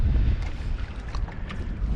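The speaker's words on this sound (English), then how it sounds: "It was not supposed to be windy today, but as usual, it is." Wind buffets a fishing boat out on the water during a crappie trip, a steady low rumbling roar of gusts against the microphone and hull with no speech.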